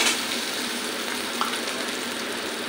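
Garlic and ginger fry in a pan with a soft, continuous sizzle, fairly quiet and steady throughout, with a faint stir or clink partway through.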